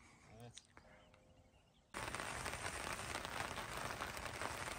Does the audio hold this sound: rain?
yes